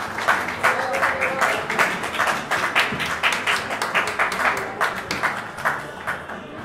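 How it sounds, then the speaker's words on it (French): Applause at a rabbinical ordination ceremony, a room of people clapping steadily with a rhythmic, pulsing quality, moderately loud and continuous throughout. "Grande applaudissement."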